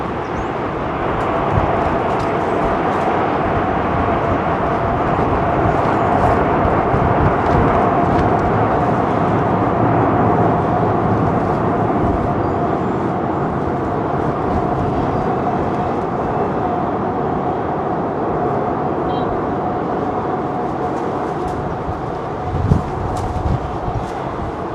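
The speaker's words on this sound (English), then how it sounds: "still had the reversers going as he was turning off" Airliner landing at London Heathrow in windy conditions, thrust reversers roaring as it slows and turns off the runway; a loud, steady broadband rumble with a sustained whine, continuous for the whole stretch, no talk.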